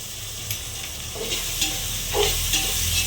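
A spoon stirs tomato rice with turmeric in a hot pan, giving a steady close sizzle broken by several scraping and stirring strokes.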